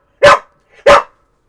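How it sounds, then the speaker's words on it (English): Two sharp, loud barks ring out close by, spaced about half a second apart with a faint whimper between them, and no other sound around them. "I love these dogs, but there's a reason I haven't been letting them into the show"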